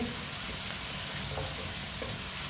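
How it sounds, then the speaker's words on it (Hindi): Washed, cut potatoes fry in a pan with seasoned oil, a dense steady sizzle held close and even throughout, no voices present. "आलू डाल के 2 मिनट के लिए पका लेंगे"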